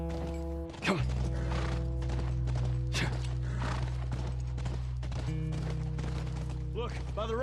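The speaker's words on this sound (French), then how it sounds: "Ah, saleté de cheval." Horse hooves clip-clop and a horse whinnies in The Last of Us, set near a ranch, with a steady layered game soundtrack and ambience underneath while someone talks over it.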